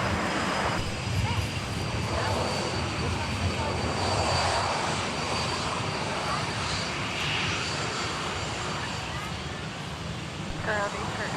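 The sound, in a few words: American Airlines airplane engines at MSP airport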